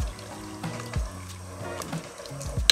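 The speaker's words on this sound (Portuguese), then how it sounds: "Um pouquinho de água para dar ponta ao molho" Water is poured into a pan of tomato pasta sauce, giving a brief splashing pour with faint sizzling and a clink near the end.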